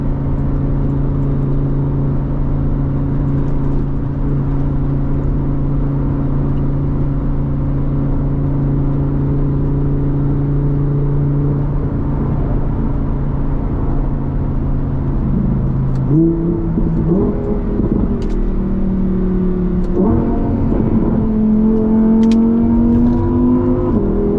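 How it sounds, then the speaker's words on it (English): A Lamborghini Huracan EVO Spyder engine drones at a steady idle, then revs up with a deep exhaust burble and rising pitch, loud and close. "Hear those loud pipes. This thing sounds amazing."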